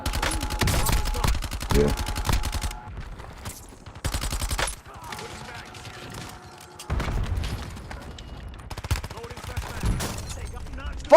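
Light machine gun fire in a video game, bursts of rapid shots in several spurts with mechanical clicks and quieter gaps between, while a voice speaks briefly over the action.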